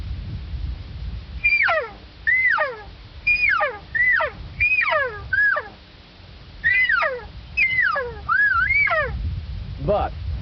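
A generic elk cow call imitated with a game call: a series of short, nasal, downward-sliding mews repeated in a loose rhythm, loud and close, over a low background rumble.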